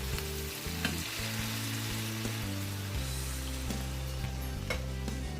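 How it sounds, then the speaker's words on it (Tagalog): Shrimp stock broth is poured into a pot holding ginger, celery, carrots and onion for seafood kare kare, making a steady, loud wash of sizzling liquid that continues without pause. "So, lalagay na natin ang ating sabaw."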